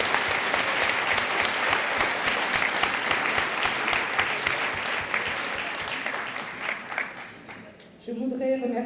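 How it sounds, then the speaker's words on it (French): At the opening addresses of a conference in Bayonne, an audience claps for students in a long, even round of applause that tapers off before a voice begins speaking at the end. "Donc si on peut les applaudir d'ores et déjà, ça serait pas mal."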